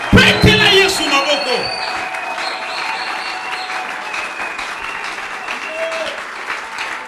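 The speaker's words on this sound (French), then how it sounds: "Acclamez Jésus." A church congregation at a Sunday service breaks into loud applause and acclaim, a thick clatter of clapping that peaks at the start and then settles into steady, sustained clapping from the crowd.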